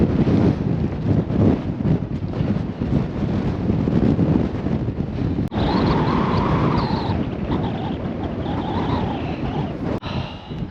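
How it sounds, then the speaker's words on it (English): Strong wind buffets the microphone during a windy mountain long run, a loud, continuous roar with gusty swells, joined midway by a faint higher whistling tone. "Kept the windbreak because the wind is still like savage out here"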